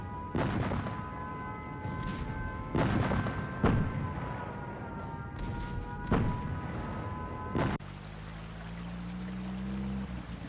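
Bombs explode during a wartime air raid, a series of heavy booming blasts roughly every second or two over a rumbling background, ending in a lower, steadier drone.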